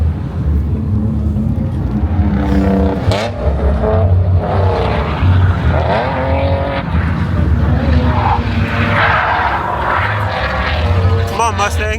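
A new Lamborghini drives past at a car meet, its loud engine roar sweeping through over steady crowd noise and nearby chatter, with shifting engine tones across the whole pass.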